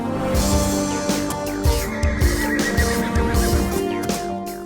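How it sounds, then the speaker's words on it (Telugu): A wild, powerful horse gives repeated neighs and snorts among clip-clopping hooves, close and loud, with no talk. "ఆ గుర్రం"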